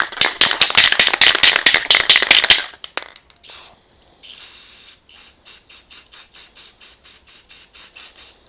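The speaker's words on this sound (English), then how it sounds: "we're just going to spray it on a piece of cardboard" Spray paint can spraying black paint onto cardboard during a pinball machine restoration, a loud steady hiss for about two and a half seconds, then a run of short, quieter spurts.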